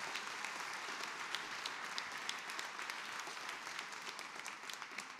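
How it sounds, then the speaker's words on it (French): Steady, even applause fills a hall as the audience at a New Year's greetings ceremony claps for an orchestra and its conductor, sounding somewhat distant and continuing without a break. "On peut l'applaudir encore"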